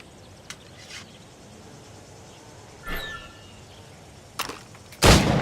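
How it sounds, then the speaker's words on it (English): Sparse gunshots in Assassin's Creed Rogue target practice, a few isolated cracks spread over several seconds with a louder, fuller blast at the end, set against quiet ambient insect-like background. "Shoot these targets."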